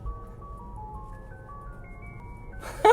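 An ice cream truck jingle plays from a Tesla's external speaker, a thin, clear chiming melody stepping through its tune at moderate volume, with a brief louder noise at the very end.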